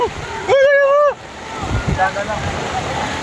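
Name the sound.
strong wind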